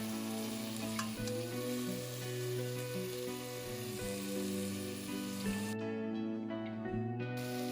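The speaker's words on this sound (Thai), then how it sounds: "หลังจากนั้นให้ใส่มันฝรั่งใส่แครอทใส่หอมแขก และกระเทียมบุบตามลงไปค่ะ ผัดส่วนผสมต่างๆจนเข้ากันดีนะคะ" Potatoes, carrots, onion and crushed garlic stir-fry in sunflower oil in a pan, making a continuous close sizzle with light stirring scrapes and no voices.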